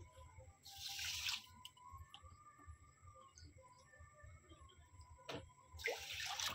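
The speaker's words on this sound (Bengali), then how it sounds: "1 বাটি চিনি দিয়েছি, 2 বাটি পরিমাণে জল দিয়ে দেব।" Water pours into a bowl of sugar to make syrup for homemade chhana rasmalai in two short, splashy streams at the start and end, with a quieter, drippy stretch between them. The sound is faint and close.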